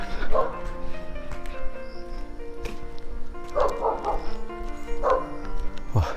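A dog chained up at an abandoned lakeside mansion barks repeatedly and loudly in uneven bursts, with some yips and whimpers between, under a background of voices.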